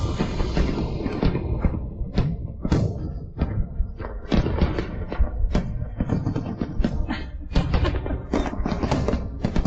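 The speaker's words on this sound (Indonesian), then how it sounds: "Kembang api tahun ini sangat indah." Fireworks go off at a New Year's celebration, a continuous run of heavy booms and thuds in quick irregular succession, loud and full.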